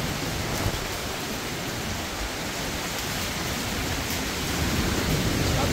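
Steady, dense hiss of rainfall in a forest, an even wash of sound with no breaks, moderately quiet and constant throughout.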